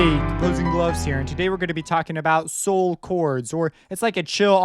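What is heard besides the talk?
No distinct noise like a dog, phone or traffic.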